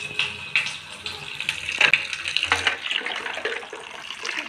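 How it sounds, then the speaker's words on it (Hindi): Water is poured from a tap into a pot for boiling baby feeding bottles at home, a close, uneven splashing and trickling stream with brief clinks of the bottles or vessel. "इधर से मैं पानी डालूंगी और ये इधर रखूँगी"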